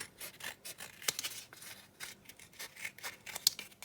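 Scissors snipping through a cardboard egg carton, a steady run of short, close cutting and rasping strokes with no voices.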